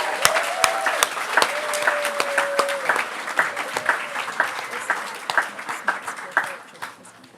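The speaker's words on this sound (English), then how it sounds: "can we please give a round of applause for everybody that put their name in the hat?" A crowd at a poetry open-mic night claps in steady applause that slowly thins into separate claps, with a voice speaking over the start.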